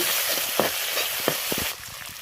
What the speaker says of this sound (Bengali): এরপর এটাকে হালকা নাড়াচাড়া করব।